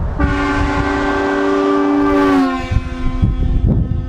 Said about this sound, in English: this beast, which is the same type of horn system used on trains and semi-trucks